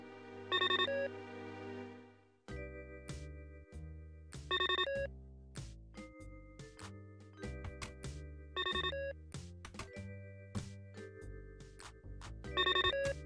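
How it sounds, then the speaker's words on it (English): A telephone rings in The Pandora Directive video game, a repeating electronic ring pattern sounding several times at regular intervals over a tinkling musical backdrop, with no speech. "Is that the phone?"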